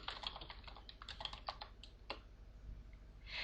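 Someone types commands on a computer keyboard while playing the text-based game Aardwolf MUD: quick, irregular bursts of close, crisp key clicks, then a pause and a final flurry of keystrokes, with no speech.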